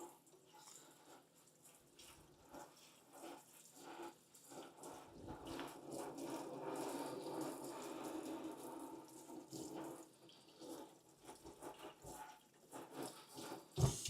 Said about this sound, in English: I'm rinsing it right now, just for the fun of it.